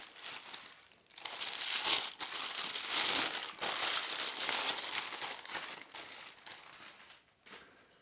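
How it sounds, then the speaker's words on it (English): A Le Creuset stoneware butter dish base being unwrapped, giving loud, continuous crinkling and crumpling of wrapping material close up, in several bursts with short pauses, no voices. "And now let's unwrap the base or the dish part of the butter dish."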